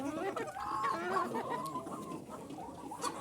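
Chickens and roosters cluck and murmur in a coop during an evening round, a dense, fairly faint mix of overlapping clucks and squawks from several birds with brief sharper calls.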